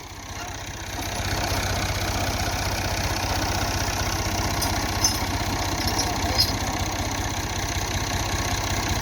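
A Massey Ferguson MF 240 tractor engine idles with a steady, rumbling low pulse, close and continuous, with faint clinks over it and voices in the background.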